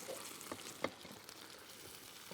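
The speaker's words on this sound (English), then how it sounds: "A chopped tin of tomatoes, and it should sizzle like that" Faint, soft sizzling of chopped tinned tomatoes in a pan with a couple of small pops and taps, quiet throughout.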